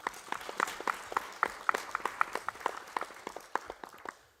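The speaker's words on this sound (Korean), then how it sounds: "우리 하나님께 영광의 박수 한번 돌립시다." Applause from a congregation during a Korean church service, steady rhythmic hand claps from a modest crowd at a moderate distance, tapering off at the end with no talking over it.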